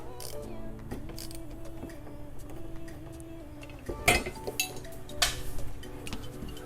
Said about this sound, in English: In case you drop anything, you'll be able to find it, like the spacer that just rolled off the table.